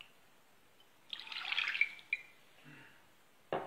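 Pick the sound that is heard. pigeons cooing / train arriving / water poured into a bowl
water poured into a bowl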